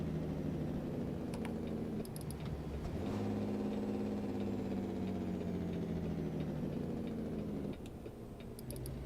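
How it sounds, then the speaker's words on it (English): Heavy truck in American Truck Simulator slowing on an exhaust brake through Flagstaff, Arizona: a steady, loud low engine drone holds throughout, with its pitch easing gradually downward and a brief shift near the end, with no talking. "We'll use the exhaust brake to slow down here."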